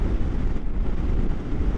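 Wind buffets the microphone at a hilltop viewpoint in Wales, a brief low rumbling roar close and steady with no voices.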